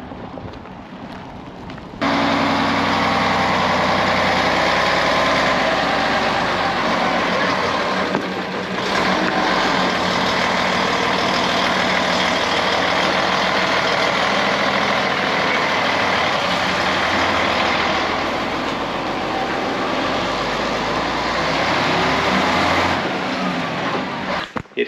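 Bus engine idling nearby, a steady loud low rumble with a broad hiss that starts abruptly and runs continuously, dipping slightly at moments, no clear talking.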